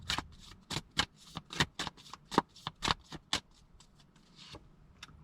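Tarot cards shuffled by hand in a rapid run of crisp riffling bursts, a dozen or more sharp flutters close up, loud and alone with no talking.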